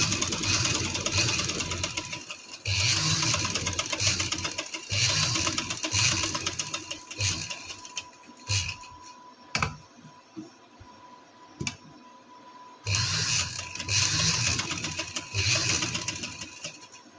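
Close sewing machine bursts sewing lace along a round neckline on a paper strip, several runs of stitching broken by quiet pauses and small clicks, with no voices.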